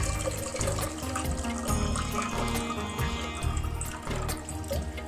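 Tap water runs steadily and loudly into a sink in a home kitchen during Ugadi pachadi preparation, a continuous splashing stream with clinking dishes mixed in.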